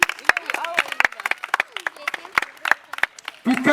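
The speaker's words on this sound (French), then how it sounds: "Anthony Runer, on applaudit." A group applauds a participant at a tennis holiday camp closing ceremony: sharp, uneven individual claps scattered among voices, with a brief louder flurry at the end.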